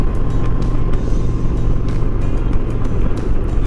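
Indian Challenger motorcycle with its catalytic converter removed and TAB Performance 2.5 lower pipes, a steady deep exhaust rumble at idle or low speed, loud and continuous with no voices.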